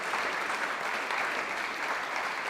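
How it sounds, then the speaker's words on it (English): A crowd at a squash championship final in Scotland breaks into steady applause for the champion, a dense, even patter of many hands clapping at a moderate distance, with no talk over it. "A big round of applause, please, for your champion"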